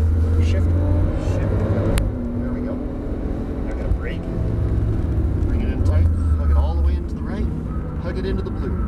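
Porsche Turbo S engine on a race track at Exotics Racing Las Vegas, droning loudly and steadily as it accelerates, with pitch shifts at the gear changes and someone talking over it throughout.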